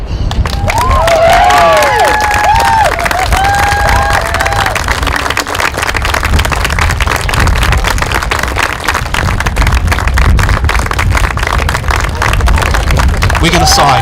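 Wedding guests cheer, whoop and applaud the newly married couple right after the ceremony, a loud, steady crowd roar with clapping and shouts that carries through the whole stretch, with voices mixed in.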